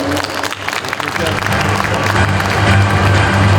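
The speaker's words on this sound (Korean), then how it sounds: "선언해주신 예레벤님들께 다시 한번 큰 박수 부탁드립니다." Festival audience at an outdoor campus-town event breaks into sustained applause that swells and holds steady, with crowd noise and a low musical hum underneath.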